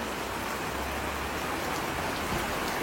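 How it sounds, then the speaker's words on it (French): Heavy tropical-style rain in Paris pours down as a dense, continuous hiss, loud and unbroken throughout with no voices. "Et là il pleut comme en Thaïlande quand il y a les pluies tropicales"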